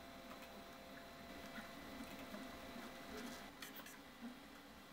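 An Artillery Sidewinder X2 3D printer with a geared direct extruder runs a print job, a faint, steady mechanical whir with soft stepper-motor tones and small clicks, continuous and close.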